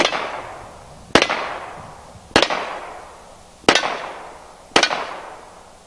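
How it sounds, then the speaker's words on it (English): A handgun fired at a shooting range, four loud separate shots spaced about a second apart, each sharp crack followed by a ringing decay. "Let's shoot the handgun."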